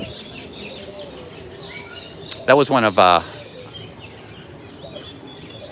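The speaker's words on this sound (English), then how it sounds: "The birds are really active." Birds at Disney's Animal Kingdom: one close, loud call of a few rapid harmonic notes stands out briefly over busy park ambience with fainter chirps, and a person speaks briefly.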